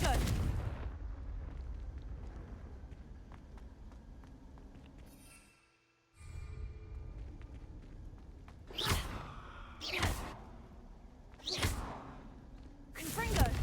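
Confringo fire spells from the Hogwarts Legacy video game burst out in loud explosive blasts, a rumbling barrage early on followed by three or four sharp separate bangs later, with a brief quiet gap in the middle.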